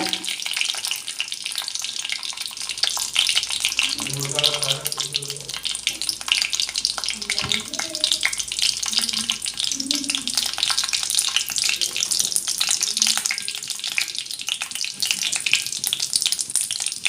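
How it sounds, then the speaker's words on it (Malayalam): Mustard seeds spluttering and popping in hot oil in a kitchen pan, made for a thoran with banana stem and sprouted green gram; a dense crackling sizzle runs throughout with scattered sharp pops and brief clinks. "കടുക് പൊട്ടുമ്പോൾ നമുക്ക്"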